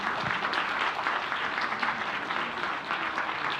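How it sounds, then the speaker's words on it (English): Sustained applause from an audience at a Balik Scientists program event in the Philippines, steady and dense clapping for the President, with no talking over it. "a big round of applause to our President."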